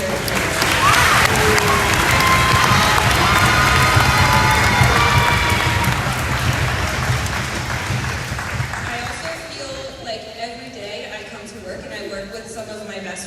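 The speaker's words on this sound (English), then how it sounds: "So round of applause for our administration" An audience at a school concert bursts into dense applause and cheering that fades after several seconds, with a voice talking over the tail end.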